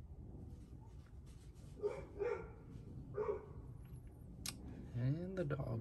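Dogs bark in the background, a few short muffled barks and yips at moderate distance, with a whining yelp near the end over low room noise.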